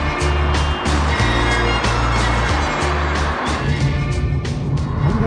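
Dense traffic at a large highway intersection in China, with steady engine rumble and several vehicles passing close by, one after another, forming a continuous loud wash without a break.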